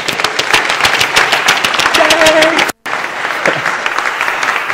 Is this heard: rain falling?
no